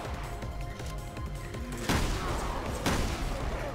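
Gunfire from a Resident Evil Revelations 2 Raid Mode mission, two sharp loud shots rising above a busy wash of game music and ambient noise.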